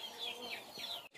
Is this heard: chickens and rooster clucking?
yes